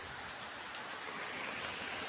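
Rain falling on a rooftop, a faint, even, steady hiss of drops pattering throughout, with no voices.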